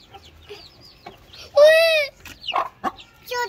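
An Aseel hen clucks near her chicks with short, sharp calls and one loud drawn-out cry in the middle, close to the listener, between bits of people talking.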